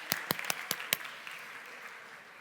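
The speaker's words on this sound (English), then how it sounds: "Give yourselves a round of applause." Applause from an audience at a business talk, starting with several sharp, close claps in quick succession, then fading into a softer, thinning patter of clapping.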